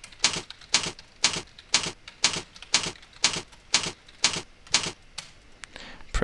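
Keys on a computer keyboard clatter in regular bursts of quick taps, about two each second, close and fairly loud, while someone types text into a PowerPoint slide. No speech.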